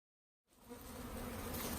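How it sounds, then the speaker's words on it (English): A dense, steady buzzing of many bees fills the air, starting abruptly after a short silence and holding constant and close. "we have lots of bees in the air"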